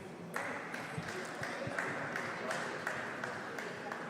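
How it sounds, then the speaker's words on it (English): Supporters of Lancaster clap at a table tennis match, a steady run of sharp claps repeating roughly every half second over constant hall noise and voices. "There's clapping from Lancaster."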